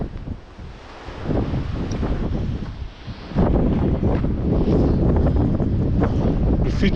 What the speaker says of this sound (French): J'ai failli tomber par le vent.